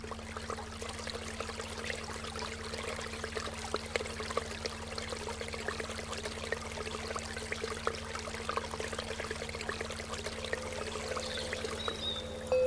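Water pours or trickles steadily for several seconds in a continuous soft stream, faint and even, over a low background hum.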